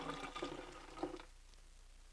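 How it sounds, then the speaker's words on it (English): Water poured from a cup through the lid opening of a blender while making cashew milk for mock eggnog, a short splashing pour that fades out, faint and alone. "We'll just add it like this through the top"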